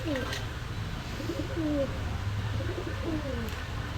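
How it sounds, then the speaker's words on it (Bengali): Pigeons at a pigeon market in Khulna coo in soft, repeated, overlapping rolls above a low steady hum, with faint voices in the background. "খুব সুন্দর কোয়ালিটির কবুতর"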